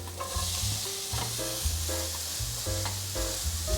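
Diced apple stir-fried in a pan with curry powder and seasonings, giving a continuous close sizzle broken by repeated scraping and stirring strokes of a spatula.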